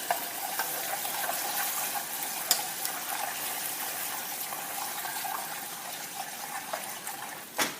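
Butter stirred into melted deep amber caramel sugar, boiling up with a steady bubbling, sizzling wash throughout and a couple of sharp clinks near the end.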